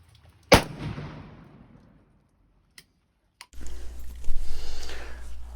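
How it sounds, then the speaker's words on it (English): H&R Pardner SB2 10-gauge single-shot shotgun fired once outdoors: a single loud, sharp blast followed by a long decaying rumble, then a couple of faint clicks and rising wind or handling noise near the end. "I do not enjoy shooting this shotgun. This thing recoils a lot."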